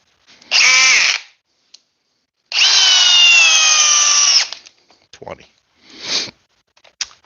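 A Ridgid power drill driving a fastener, loud and close, in two whirring bursts, the second longer and steady, followed by clicks and a short final spin.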